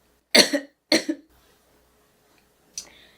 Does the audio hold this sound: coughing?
yes